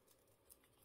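Scissors cut through a vintage paper tag: one short, crisp snip near the end of an otherwise quiet moment.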